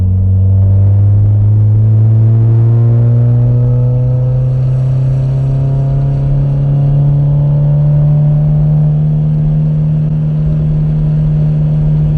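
Mazda Miata engine in second gear climbs steadily toward 4,500 RPM, a loud, close, droning rev whose pitch rises smoothly over about twelve seconds.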